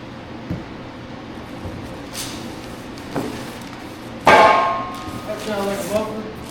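A boxed exhaust kit muffler for a 1962 Chevrolet C10 pickup is unpacked and handled, giving scattered knocks and one loud metallic clang partway through, with a ringing resonance fading afterward.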